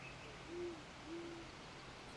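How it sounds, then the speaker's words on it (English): An owl sound effect gives two soft, low hoots in quick succession, played faintly over quiet background hiss. "And then the owl said, who?"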